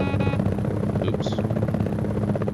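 Helicopter rotor in the combat flight game Gunship, a steady, loud, low throbbing drone with a constant mechanical buzz running unbroken for the whole stretch.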